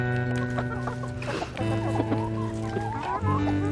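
A broody hen sitting on eggs clucks in a series of close, soft, repeated low clucks, heard over a steady tonal hum in the background.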